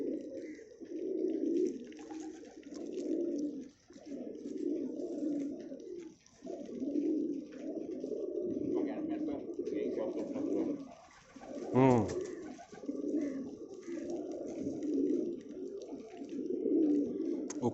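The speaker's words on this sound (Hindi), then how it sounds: "ये कबूतर एक बैठ रहा है और एक कबूतर और बैठा हुआ है" Pigeons in a pigeon loft coo in soft, repeated rolling phrases, one call after another with brief gaps, fairly quiet and close.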